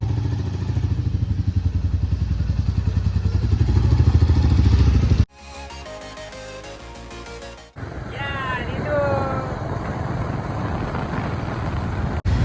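A Royal Enfield Bullet motorcycle on the road, its engine giving a steady loud thumping rumble that swells, then drops away and returns alongside other road and traffic noise.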